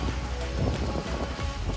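Steady rain pours down over a construction site where wall plastering carries on, a dense continuous hiss with no voices.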